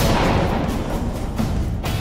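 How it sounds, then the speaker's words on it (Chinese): A blast detonates in a 15-metre straight trench, a loud, deep rumbling roar that fills the whole stretch with heavy low-end force and a few later surges. "15米的绿色直线战壕爆破"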